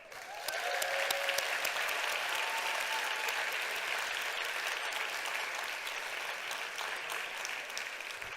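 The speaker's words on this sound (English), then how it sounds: "I'll send you off to go and do your deliberations with a huge round of applause." Sustained audience applause at the Hult Prize 2023 Global Finals, a dense, steady roar of many hands clapping that stays even and loud from start to finish with no voices over it.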